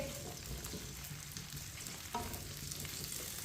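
Chopped okra fries in oil over a medium flame, giving a soft, steady sizzle with faint stirring scrapes and one small clatter partway through.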